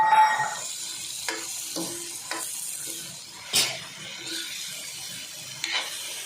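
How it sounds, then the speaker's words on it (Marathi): Crushed unpeeled potatoes sizzle and crackle in a hot iron pan, with a few scraping stirs and clinks of a spatula. "आता आपण याच्यात बटाटे टाकून घेऊया जे आपण ठेचून घेतले आहेत"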